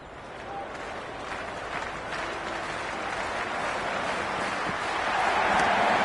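Cricket stadium crowd noise in the PS5 cricket game during a Big Bash League match between Melbourne Renegades and Brisbane Heat, a broad roar from a large crowd that builds steadily louder and swells toward the end.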